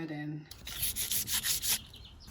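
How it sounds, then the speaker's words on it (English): Sandpaper rubbed by hand over a wooden kitchen cupboard door, making about five quick rhythmic scratchy strokes up close after a short quiet start. "afterwards, I will use the sanding paper"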